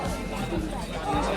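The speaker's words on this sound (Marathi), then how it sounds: "इकडे गर्दी बघा" Busy crowd babble at Matheran hill station, where horses stand near the entrance; a steady, dense wash of many voices talking at once, fairly close, with no single voice standing out.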